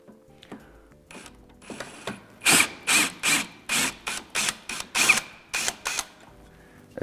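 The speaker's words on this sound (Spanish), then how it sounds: "Extraemos el tornillo" A screw is backed out of wood in a rhythmic series of about a dozen close, raspy grinding bursts with short pauses between turns.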